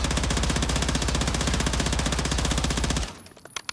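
Rapid automatic gunfire from a weapon in the Call of Duty firing range, a loud, steady stream of evenly spaced shots lasting about three seconds before stopping abruptly, followed by a few faint clicks and rattles.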